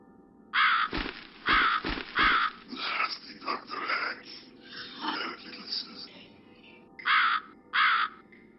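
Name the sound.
crow cawing in video game The Cat Lady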